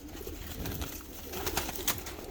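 Domestic pigeons coo softly in a close, low, throaty series of short calls, with no one talking.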